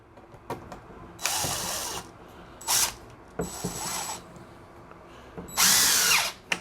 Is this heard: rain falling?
no